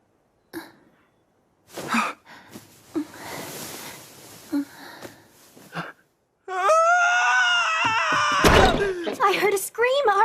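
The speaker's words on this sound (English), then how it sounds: "I heard a scream." A girl's loud, high-pitched scream in an English-dubbed anime, wavering and sustained for several seconds after some breathy sounds, muffled thumps and short vocal noises, ending with a sharp thud.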